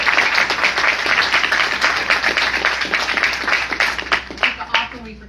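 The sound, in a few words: audience applause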